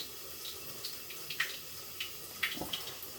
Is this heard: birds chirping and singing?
no